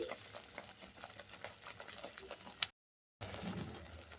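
Spice paste for dahi fish stirred and fried in oil over low gas, a steady scraping and sizzling stir that runs for several seconds, breaks off briefly, then resumes.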